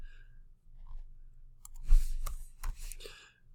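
Mouse clicks while working in Google Slides on a computer, a few sharp, close taps spaced irregularly over a quiet background, with no talking.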